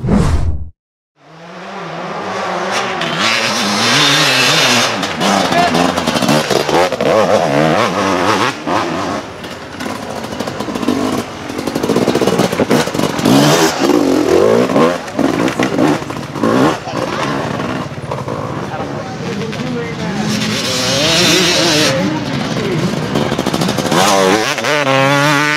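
A Fantic XE 300 two-stroke enduro motorcycle revs hard and loud, its raspy engine note rising and falling repeatedly over about twenty-five seconds with one short dip, close and sustained with no talking.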